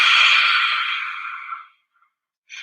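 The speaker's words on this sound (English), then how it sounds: "you stick your tongue out and you breathe as loud as you can" One long, loud, breathy lion's-breath yoga exhale with the tongue out and a raspy hiss, fading out over about a second and a half before a brief new breath begins.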